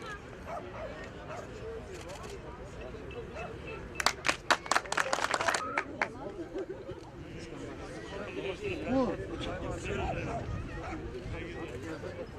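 Applause for athletes at a championship ceremony, a short burst of sharp claps in the middle, heard under continual talk, with dogs barking and yipping nearby throughout.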